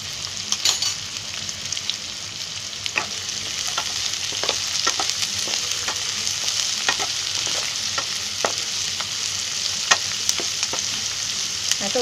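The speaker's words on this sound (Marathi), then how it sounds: "कांदा चांगला गोल्डन होईपर्यंत फ्राय करायचा आहे" Sliced onions frying in a pan of oil for a Konkani-style oyster (kalwa) fry give a steady, close sizzle, with scattered sharp scrapes and clicks of stirring throughout.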